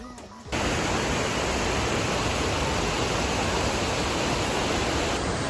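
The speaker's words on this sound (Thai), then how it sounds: "เราก็มาถึงน้ำตกที่เราจะมากันแล้วนะ" A waterfall reached on a road trip near Sendai, Japan, roars in a loud, steady broadband rush of falling water that starts abruptly after a brief moment and continues unbroken.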